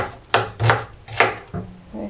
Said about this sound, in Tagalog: naghihiwa ako ng sibuyas